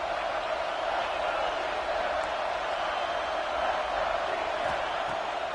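A large stadium crowd roars steadily at a college football game in NCAA College Football 26, a dense continuous wash of cheering with no clear breaks.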